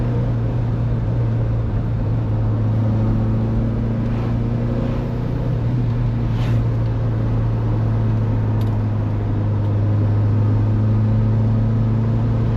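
A 1966 Alfa Romeo Giulia Sprint GT Veloce engine on the move gives a steady, even drone heard from inside the car, with a low hum holding throughout and no voices.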